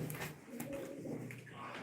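Pigeons coo in a short, close burst, several soft throaty calls overlapping under steady background noise.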